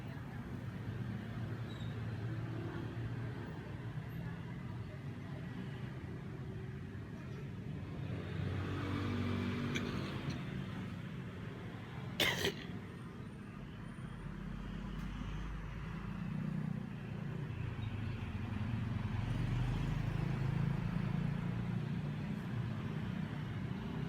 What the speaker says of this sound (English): evening traffic at the front of my hotel